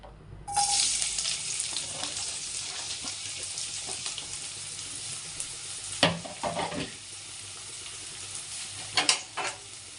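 Sliced onions hit hot oil with a sudden loud sizzle, then fry in a steady crackling hiss while a utensil stirs and scrapes the pan in a few sharp bursts, close up with no voices.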